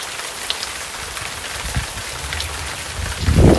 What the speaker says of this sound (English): बारिश बड़ी तेज हो गई है।